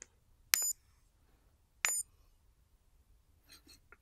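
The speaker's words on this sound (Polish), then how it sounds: "On daje też sygnał dźwiękowy" A timer cube gives two short, high electronic beeps about a second apart in a quiet room, followed by faint chirps.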